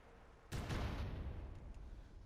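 A shotgun blast in GTA San Andreas hits with a sudden loud boom, then a rumbling tail that fades slowly over about two seconds.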